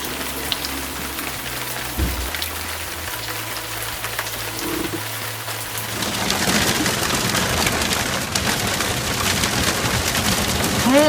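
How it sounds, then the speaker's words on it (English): A constant dense patter of hail striking surfaces on a boat in Sardinia builds louder partway through, with a low hum underneath and no voices. "Hail in Sardinia!"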